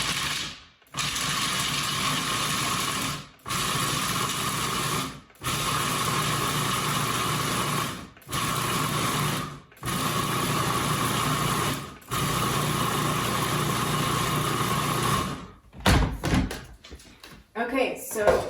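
A food processor pulses a chocolate avocado pie filling in repeated bursts of loud motor whir, each a couple of seconds long with short gaps, followed by clattering handling at the end.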